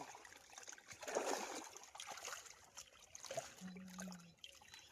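Irrigation water trickles and splashes gently into a maize field, faint and steady with no voices.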